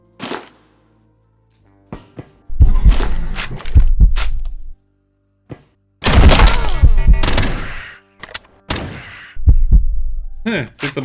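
Shotguns fire in the sci-fi video game Quasimorph, several heavy booming blasts in separate bursts with short silences between, each ending in a rumbling tail.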